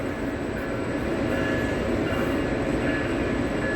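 An O gauge model of an EMD GP30 diesel locomotive in Conrail number 2233 livery runs on a museum model railroad layout, with a steady, close rumbling of wheels on track and no pauses.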